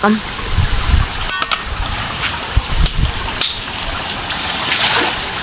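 Strong, rushing water of a mountain stream pours steadily as a broad, continuous wash, with a brief voice and a few knocks breaking through near the start.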